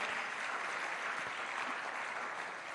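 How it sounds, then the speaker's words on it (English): An audience claps at the close of a morning launch event for a legal information portal, a brief, even burst of many hands applauding. "Give yourselves a big round of applause for being an exceptional audience."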